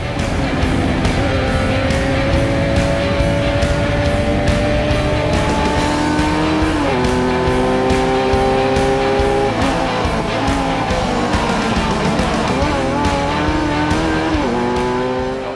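A Sierra RX3 race car climbs Pikes Peak, its engine loud and close with continuous revving that rises and falls through gear changes, with tire squeal mixed in throughout.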